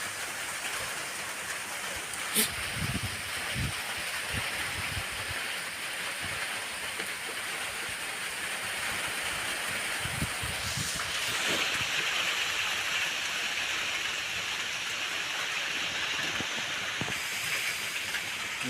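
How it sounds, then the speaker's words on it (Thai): Heavy rain falls steadily with wind gusting through it, while low rumbles of thunder roll in at intervals; a sharp crack sounds early on and the downpour grows louder past the midpoint, with no voices. "ทั้งเสียงฝน เสียงฟ้าทั้งลมครับมาด้วยกัน"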